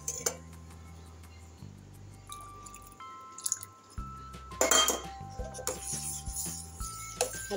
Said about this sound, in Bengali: ভালো করে নাড়াচাড়া করতে হবে।